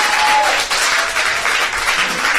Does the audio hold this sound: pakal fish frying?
no